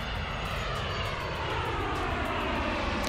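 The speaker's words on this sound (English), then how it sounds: "That plane going over." A fixed-wing airplane passes overhead above an Oakland golf course, its engine a loud, steady broadband roar filling all three seconds without any talk.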